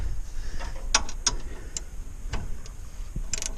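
Ratchet wrench tightening a bolt while installing SumoSprings on an 88 Chevy P30 RV, giving a few separate clicking bursts over steady low background noise.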